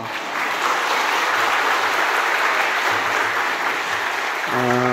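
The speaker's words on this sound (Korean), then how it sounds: "목사님 나오실 때 큰 박수 부탁드리겠습니다" A church congregation claps warmly to welcome the pastor at a student and youth dedication service, a full, continuous round of applause filling the room, with a brief organ or keyboard chord sounding near the end.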